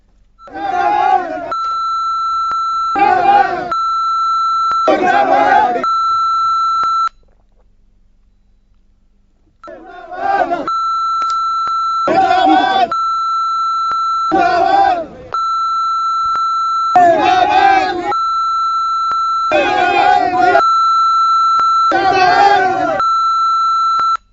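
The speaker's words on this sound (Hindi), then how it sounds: "तो देख रहे हैं हमें साइलेंस और बीप लगानी पड़ रही है" Censorship beeps cut repeatedly over muffled voices in Hindi news footage of a farmers' protest scene, a steady high tone sounding in a run of short bursts, pausing for a silent gap, then resuming in longer bleeps over the muted speech.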